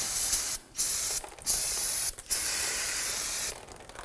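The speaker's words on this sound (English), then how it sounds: "Go ahead and use some spray solvent, clean that up." Several bursts of aerosol spray solvent cleaning rear brake parts on a Volvo XC90, a bright hissing jet repeated in four pulses with brief pauses between, close and fairly loud.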